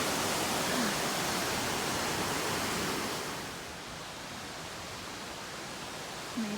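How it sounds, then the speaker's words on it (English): A rushing waterfall beside a hiking trail on the Pacific Crest Trail makes a loud, steady hiss of falling water that eases slightly about halfway through but keeps going without pause. "I'm guessing it's not a raging waterfall most of the time."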